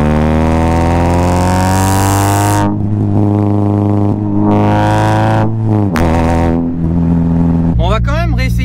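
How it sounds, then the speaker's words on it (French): Exhaust note of a Honda Civic with an upgraded chassis: a loud, steady low-pitched drone that swells and dips as the engine revs, then breaks into a rougher, warbling burble near the end. "Je vous laisse sur des sons d'échappement, ce sera plus sympa."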